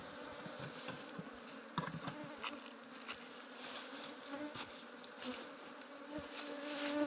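Bees buzzing around an opened hive during a honey harvest, a steady, close swarm hum that goes on throughout, with faint knocks and handling noises mixed in.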